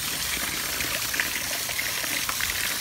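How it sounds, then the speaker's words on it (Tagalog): Water trickles from the drain of a TCL air conditioner, a continuous close splashing patter without any speech. "hanggang tumutulo dyan, okay yan"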